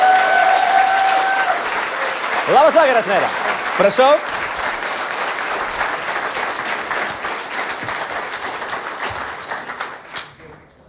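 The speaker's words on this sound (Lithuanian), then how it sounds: "ponios ir ponai, plojimais pasitikite" A studio audience at a talk show applauds loudly as the guest, a town mayor, arrives, a dense sustained clapping that slowly fades toward the end, with a host's greeting heard over it.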